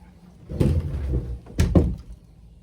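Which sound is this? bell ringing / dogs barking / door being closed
door being closed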